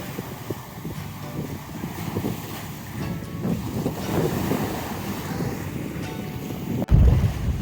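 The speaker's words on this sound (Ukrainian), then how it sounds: "Тільки море несе свої хвилі без утоми." Sea waves wash onto an empty beach at Odesa with steady wind buffeting the microphone, a continuous surging roar and a sharp gust near the end.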